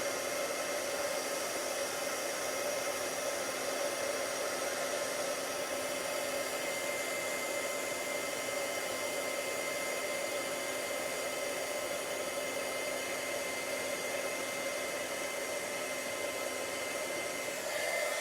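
Electric heat tool blowing hot air over white embossing powder on layered cardstock, a steady loud whooshing hiss with a constant whine, running alone without pause.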